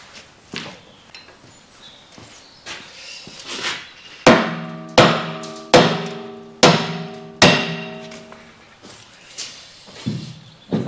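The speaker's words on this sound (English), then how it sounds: "Find a big hammer." Heavy hammer blows ring out on a metal hydraulic winch part during a repair, a run of loud, evenly spaced metallic strikes with ringing decay after a few lighter knocks, no talking.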